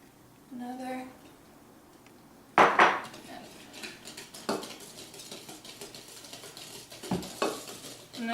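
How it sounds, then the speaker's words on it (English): Spoon stirring ingredients into a batter in a bowl, scraping and clinking strokes with a few sharper knocks against the bowl, close and moderately loud, while someone speaks briefly at the start. "So there's one, and just stir it up."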